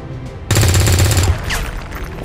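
A sustained burst of loud automatic gunfire as soldiers shoot at an officer in XCOM 2, roaring for under a second before trailing into echoing tail and debris.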